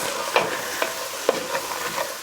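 Carrots, onions and celery sizzle softly in a pot, with a few light stirring scrapes over a steady hiss.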